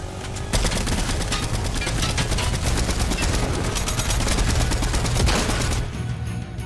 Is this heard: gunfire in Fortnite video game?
yes